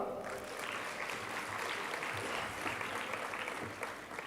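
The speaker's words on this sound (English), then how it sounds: "Let's give them a clap." Applause from the audience at a conference's closing plenary, a steady, dense wash of clapping filling the hall for several seconds with faint voices mixed underneath.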